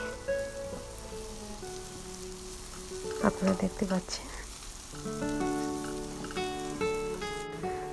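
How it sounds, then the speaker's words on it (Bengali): Ginger paste, salt and other ingredients sizzling in a pan while being stirred for a Rupchanda pomfret fish dopiyaji, with a steady frying hiss, a burst of scraping stirs in the middle, background music and a brief spoken remark. "এখন এগুলো সব আমি একসাথে নেড়ে চেড়ে ভেজে নিচ্ছি"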